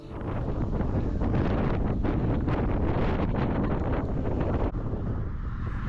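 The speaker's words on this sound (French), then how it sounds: "de plus en plus de vent qui avait pas envie de nous lâcher ce jour-là" Strong wind buffeting the microphone while cycling toward the coast, a loud continuous roar and rumble that holds steady for several seconds with no speech.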